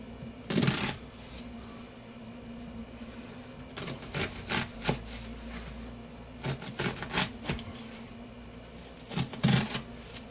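A kitchen knife dicing a vegetable on a cutting board: bursts of quick, crisp chopping taps in uneven clusters, close and clear, with brief pauses between runs.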